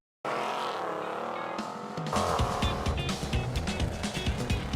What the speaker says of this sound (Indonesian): Dia pun melajukan mobil menuju lokasi tujuan dengan kecepatan tinggi.